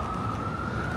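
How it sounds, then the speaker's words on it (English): Loud siren wailing on a New York City street, a steady sustained tone over continuous traffic noise, filling the short moment without voices. "Now that that really loud siren is gone."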